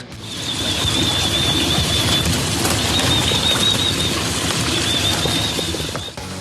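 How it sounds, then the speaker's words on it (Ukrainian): A large flock of more than 500 pigeons bred by boxer Mike Tyson calls repeatedly: thin, wavering bird notes rise over a loud, steady wash of background noise, with no talking. "легендарний боксер розводить голубів, і їх у зграї вже понад 500"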